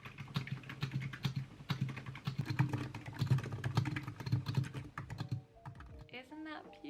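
Rapid, close-up clacking of typing on a budget mechanical keyboard, with dense, uneven keystrokes for several seconds before stopping as a voice begins speaking.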